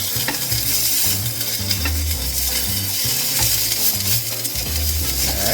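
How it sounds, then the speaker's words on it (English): Sausage frying in a pan, with a steady close sizzle and spatter throughout, broken by repeated low scraping and stirring strokes of a utensil, no voices. "Let's go ahead and cook our sausage."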